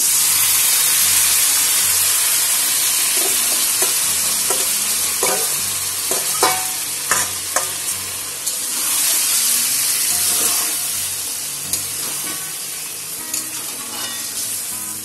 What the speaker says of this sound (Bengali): দিয়ে দেব ম্যারিনেট করা মাংসটা।